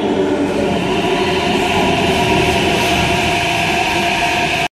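A Hyderabad metro train runs at speed, a loud, steady roaring rumble with sustained tonal whine from inside the carriage, ending abruptly.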